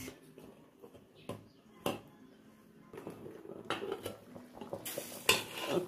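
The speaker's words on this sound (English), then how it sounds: "And then let's put back the lid." Metal lid set back onto a cooking pot of catfish pepper soup, with several sharp clinks and clatters of pot and utensils over a quiet kitchen background.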